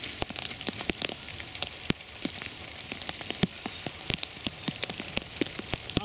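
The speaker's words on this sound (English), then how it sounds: "Absolutely chucking it down now." Heavy winter rain pelts a woodland camp with a dense steady patter, sharp drips striking tarp or sheeting close by throughout, no voices.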